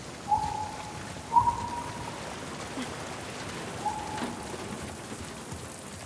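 Steady rain falls in the video game The Last of Us Part 2, a soft, even hiss of drops across the whole stretch with a few faint tonal blips, quiet and with no talking.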